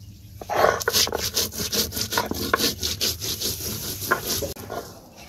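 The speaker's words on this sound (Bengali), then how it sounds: "জিরে ফলের সাথে আদাটাও বেটে নিচ্ছি" Cumin, cardamom and ginger being ground by hand on a grinding stone in a village kitchen, with a steady series of rough rubbing, scraping strokes up close, loud and rhythmic, no talking.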